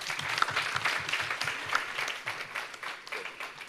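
Audience applause for a presenter at a health innovation pitch competition, steady dense clapping from a moderately distant crowd, fairly soft and continuous throughout.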